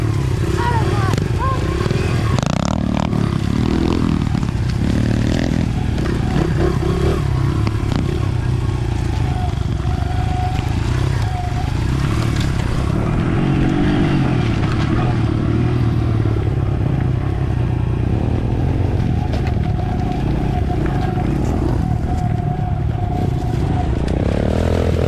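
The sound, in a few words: dirt bikes riding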